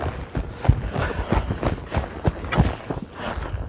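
A horse walking during groundwork, hooves clip-clopping in an irregular rhythm of soft, close thuds with ambient noise between steps.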